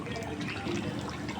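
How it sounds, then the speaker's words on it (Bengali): Haleem mix dissolved in hot water being poured into cooking mutton, a continuous close liquid splash and gurgle with no voices. "তো এখানে আমি হালিমের যে মিশ্রণটি গরম পানিতে গোলায় রাখছি সেটা আমি দিয়ে দিচ্ছি।"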